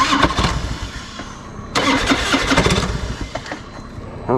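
A 20-year-old Harley motorcycle cranks and fires up on a cross-country trip to the Dalton Highway, the engine catching with a loud burst, then settling into a rough, loping, close-up idle.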